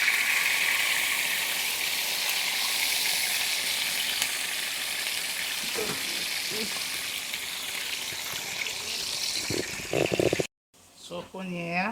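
Fish fries in a pot for a Haitian grosèl dish, a steady loud sizzle with a few bubbling crackles, ending abruptly in a short silence before a voice speaks.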